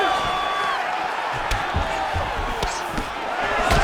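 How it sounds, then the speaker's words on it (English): A crowd at an MMA fight roars and cheers in a sustained, dense wash of voices, with scattered shouts and sharp thuds breaking through. "the crowd continues to react with every passing land"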